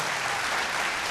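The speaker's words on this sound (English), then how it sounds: "please join me in applauding them for one last time" A studio audience at a televised vocal singing competition applauds the departing contestants, a dense, steady wash of many hands clapping with no break.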